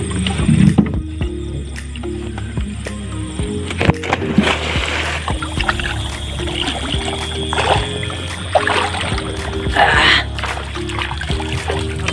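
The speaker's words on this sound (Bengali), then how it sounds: "এখন নৌকা চালাই ওপার যাই" Small boat rowed across a river or open water in calm, light wind, with soft oar splashes and trickling water at intervals, over a steady low engine-like hum and faint background noise.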